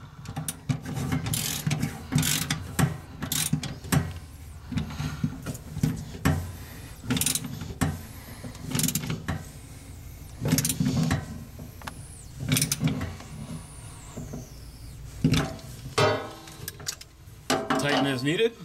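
A socket wrench with a 5/8 six-point socket ratchets a commercial sink fitting tight, sending out repeated bursts of clicking throughout with some clanks and knocks, close and fairly loud, and a voice talks at times over it.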